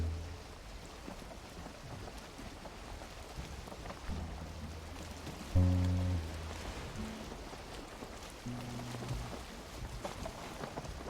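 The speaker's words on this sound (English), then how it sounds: "All I hear is the boat." A boat sailing on the ocean in the video game Valheim: low creaking and sloshing hum runs throughout, with a brief louder thump midway and rain-like patter layered over it.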